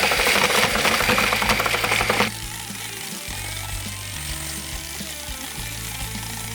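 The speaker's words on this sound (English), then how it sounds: "even though I'm using a double paddle, very professional mixer." Double paddle mixer churning stamped concrete overlay material in a bucket, a loud buzzing whir for about two seconds, then a lower, quieter motor hum with brief pauses and restarts.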